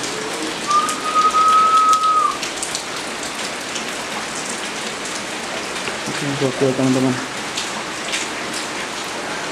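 Steady rain pours outside a room on a cold day, a constant dense hiss with a brief whistle-like tone early on; someone speaks briefly over it.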